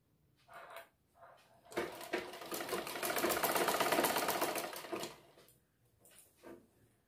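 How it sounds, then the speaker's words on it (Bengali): A sewing machine stitches a neck band onto a bra-cut blouse, running in one sustained, steady whirring burst of rapid needle strokes, bracketed by a few short starts and stops, close and fairly quiet. "এইভাবে আমরা পুরোটা গলাতে গলার পট্টিটা বসিয়ে বসিয়ে সেলাই করে নেব।"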